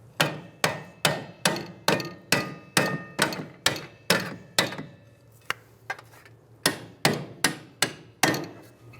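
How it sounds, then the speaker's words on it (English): A hammer taps the rear knuckle of a 2007-2011 Toyota Camry into place during a strut and spring swap, landing close, hard metallic blows in two steady runs of a dozen or so strikes with a brief pause between. "Finish tapping it into place."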